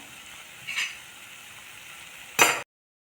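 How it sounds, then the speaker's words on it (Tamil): Boondi batter for motichoor laddu fries in hot oil with a faint, steady sizzle, broken by two short bursts of louder crackling before the sound cuts off. "கொஞ்சம் கொஞ்சமாகவே பொறிச்சு எடுத்துக்கலாம்"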